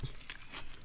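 A few crisp, crunchy bites into firm star fruit (balimbing), close up and fairly quiet.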